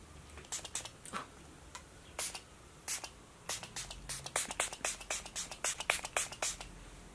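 Quiet, irregular short hissing bursts, like a fine mist spray pumped repeatedly, coming faster toward the end, close and soft.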